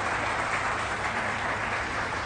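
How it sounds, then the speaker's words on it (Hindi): Dense clapping from a live interview audience, a continuous wash of many hands applauding at steady volume without a break and with no talk over it. "अभी ताली नहीं मारनी"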